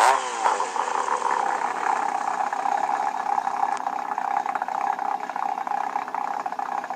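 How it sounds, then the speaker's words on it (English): ARCA stock car engines drone together after starting at Talladega, a steady, dense mechanical roar that stays loud and even throughout, with no talk over it. "Engines are fired."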